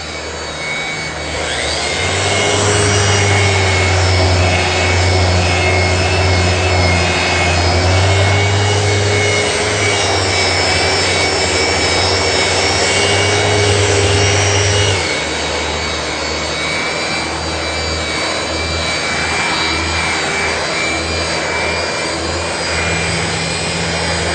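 A power sander sanding dark paint drones loudly and continuously with a harsh, buzzing rasp, steady throughout with slight shifts in pitch as it works.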